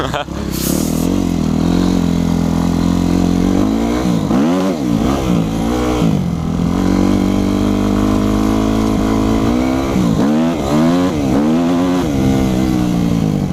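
A Yamaha YZF 250 motorcycle engine revving and accelerating up close, loud and continuous, with pitch swinging up and down through repeated throttle blips and gear changes while a rider's voice breaks in over it.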